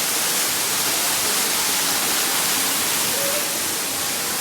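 Water falls steadily from above the Shri Shrugareshwar Ganpati temple at Harkul, a close, loud, unbroken rushing wash that fills the short stretch evenly.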